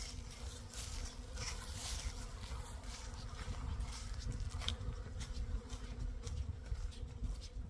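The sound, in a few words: bees buzzing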